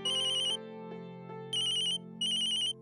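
A mobile phone ringtone plays in repeating bursts, bright electronic chimes alternating with short lower melodic notes, clear and close.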